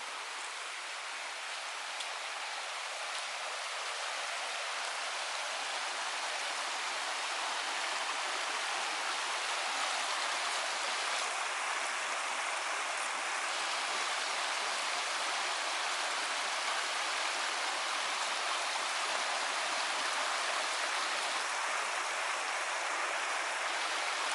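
Water flows in a mountain stream in Potter County, Pennsylvania, with a steady, even rushing hiss, constant and unbroken throughout, with no voices.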